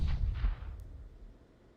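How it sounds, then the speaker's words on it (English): Deep booming gunshots from a Desert Eagle in the video game CS:GO, two quick heavy reports close together that fade into a low rumbling tail, during a tournament match. "Both of them are going to go down to Unknown Uchiha's deagle headshots."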